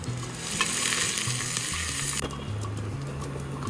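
Onion sautéing in ghee for Kabsa rice, a dense continuous sizzle and crackle of frying with stirring, close and loud, no speech.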